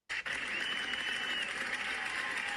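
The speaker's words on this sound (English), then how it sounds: "Round of applause for that guy." A short burst of steady applause from a group, starting abruptly and holding an even wash of clapping throughout, fairly close and without voices.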